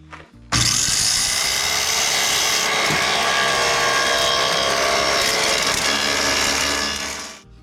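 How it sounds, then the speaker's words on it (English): Table saw fitted with a pair of stacked dado blades cutting through wood, a steady loud close whine that starts abruptly and holds for several seconds before fading as it spins down. "What I have in my saw now is a couple blades off of a set of stacked dados."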